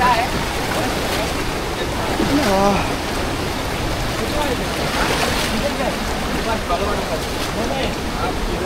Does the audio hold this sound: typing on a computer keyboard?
no